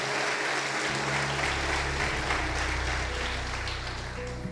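Church congregation applauding during a Sunday celebration service, a steady sustained wash of many hands clapping at once, dense and even, with a low hum underneath and no talk.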